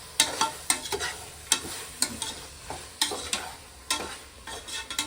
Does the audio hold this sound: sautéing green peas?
yes